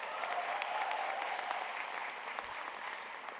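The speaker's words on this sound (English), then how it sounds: "Can we give her one more round of applause?" An audience at a keynote talk gives a round of applause, a dense, even patter of many hands clapping throughout at a moderate distance, slowly thinning toward the end.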